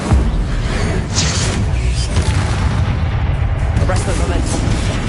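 Incendio fire spell blasts in the Hogwarts Legacy video game, a loud continuous roaring burst with rumbling booms and whooshes layered over dense combat effects, with several flaring surges across the stretch.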